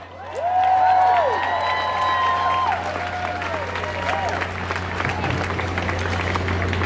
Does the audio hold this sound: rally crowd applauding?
yes